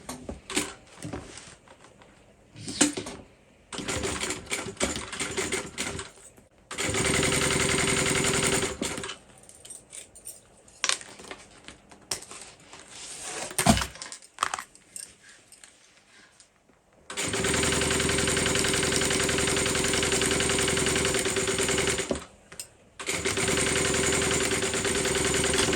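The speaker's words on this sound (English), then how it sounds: "just get my second piece and just chain stitch" A home sewing machine chain-stitches fabric pieces for a tote bag, running in several loud, steady bursts of motor whir separated by short pauses and handling noise.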